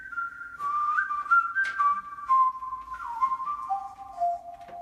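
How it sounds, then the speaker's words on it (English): Pitched whistling inside a recording studio: a person whistles a sustained melodic line of held notes stepping gradually downward in pitch, close and clear with no talking. "So this is the whistle."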